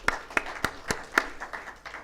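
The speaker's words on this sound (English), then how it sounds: "all of you deserve a big round of applause" An audience at a medical equipment launch event claps in a sparse, faint round of applause, with a few distinct hand claps standing out over a soft patter.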